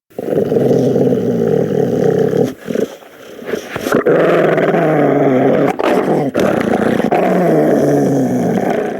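A mixed-breed mongrel dog growls loudly and close, a deep, sustained rumbling snarl that runs almost the whole time with only a few brief breaks.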